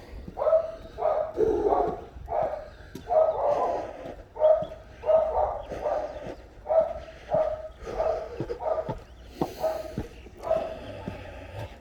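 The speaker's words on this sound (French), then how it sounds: "Encore une qui aboie." A dog barks repeatedly at a steady pace, a dozen or so sharp woofs at moderate distance, with brief quiet gaps between.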